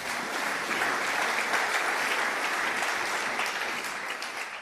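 A church congregation applauds steadily, a dense, even wash of clapping hands that holds at a constant level for several seconds with no voices above it.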